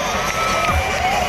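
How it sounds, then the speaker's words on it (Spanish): A large crowd at a jaripeo in a packed bullring roars and cheers for a Brazilian bull rider, a dense, loud mass of shouting voices with no clear separate claps. "¡El aplauso para el brasileño!"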